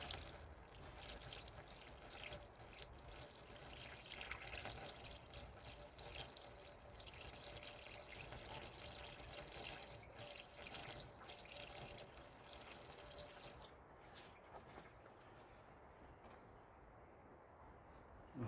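Water pours and trickles steadily into a 1965 Ford Thunderbird during a rebuild, a continuous splashing flow with faint drips, alone without talk throughout.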